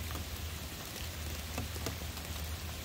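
Heavy rain pours steadily on a boat while fishing for snapper with sardine bait, a dense, constant hiss with scattered heavier drops and no talk.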